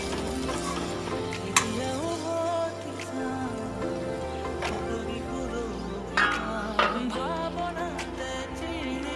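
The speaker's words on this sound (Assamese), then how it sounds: "এইখিনি আৰু 5 মিনিটমান ভাজিম" Chicken fries in a pan, a constant crackling sizzle broken by a few sharp clinks and scrapes from stirring, close and clear.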